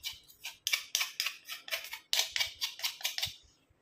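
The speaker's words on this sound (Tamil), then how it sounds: "ஸ்பூன் எடுத்து இந்த மாதிரி எல்லாத்தையும் எடுத்து விட்டுக்கலாம்." A metal spoon scrapes ground, blackened coconut powder out of a bowl in a series of quick, dry rasping strokes, about a dozen close, faint scrapes in an uneven rhythm.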